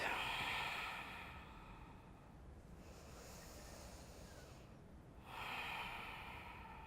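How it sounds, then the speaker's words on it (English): Deep, slow breaths are taken during a vinyasa yoga pose: a long airy inhale, a quieter pause, then another strong breath near the end, close and fairly soft. "Take one more full breath."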